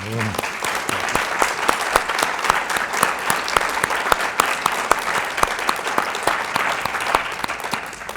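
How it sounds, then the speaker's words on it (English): An audience at West Virginia State University's State of the University address gives sustained, dense applause, loud and even throughout with crisp individual claps standing out of the crowd roar. "I'd just like to give you, again, a hand of applause for your service at West Virginia State University."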